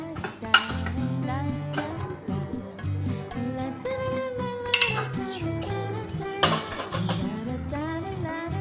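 A spoon stirs rice mixed with sambar on a plate, making clinks and scrapes of metal on the dish, close and fairly steady, with brief louder clinks along the way.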